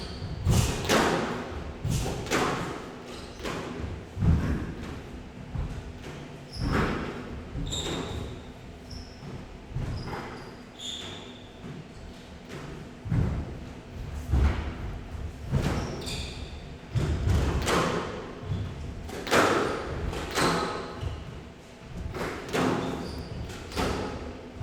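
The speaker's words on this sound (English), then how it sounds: "Plenty of drops, plenty of recovery from Glenn Templeton, but in the end, Thomas taking it with a nice deceiving shot there on the forehand." A squash ball smacking the walls and racquets during a Premier League rally, sharp hollow thuds and cracks at an uneven, quickening pace, with faint shoe squeaks and little talk.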